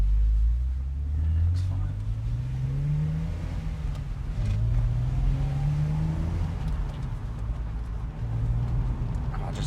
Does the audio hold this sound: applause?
no